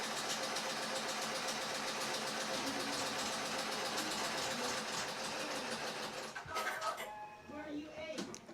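An Epson F2270 printer runs a light head cleaning of all nozzles. A steady mechanical whir and rattling fill several seconds, then shift to irregular clunks and servo movements near the end.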